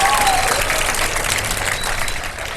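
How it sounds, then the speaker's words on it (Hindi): Audience applause for the participants of a televised Ramadan sehri show, a dense and steady clapping that stays loud throughout and eases slightly toward the end, with no voices over it. "हमारे पार्टिसिपेंट्स के लिए बहुत सारी तालियां"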